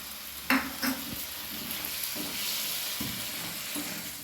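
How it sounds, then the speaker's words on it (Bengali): A potato filling curry with tomato sauce and soy sauce cooks in a pan, giving a quiet, even sizzle broken by a few soft knocks and scrapes of stirring. "আরও 2 মিনিট সময় নিয়ে আমি তরকারিটা রান্না করে নেব।"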